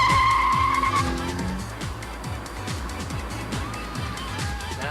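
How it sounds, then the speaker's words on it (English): A car on a racing track accelerating hard: a throaty engine note, steady at first, breaks into a rapid pulsing rhythm of repeated revs, with tire noise over the run and fairly close throughout. "this extremely pucker motor in a couple of seconds' time will be accelerating because I'll be putting my foot down on the juice pedal."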